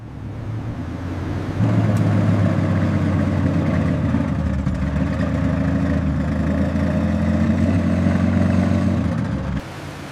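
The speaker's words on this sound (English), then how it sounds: "The engine is stable." A restored M6 amphibious vehicle engine idles close by, a loud, steady low rumble that steps up in intensity after a moment and holds evenly before dropping back near the end.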